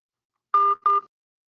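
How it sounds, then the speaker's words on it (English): A voicemail beep sounds after a recorded greeting: two short, clear electronic tones, the second following a brief gap, heard alone with silence around them. "Please leave your message after the tone."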